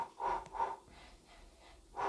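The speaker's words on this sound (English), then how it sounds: "make sure you're getting a good breathing going" Heavy rhythmic breathing during a boxing warm-up, close sharp inhales and exhales in a regular pattern, a few breaths within a couple of seconds, with no talking.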